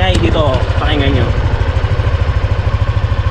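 A 2025 Yamaha NMAX 155 V2.1 scooter idles with a close, steady, rhythmic low throb, while someone speaks briefly over the opening second before the engine carries on alone.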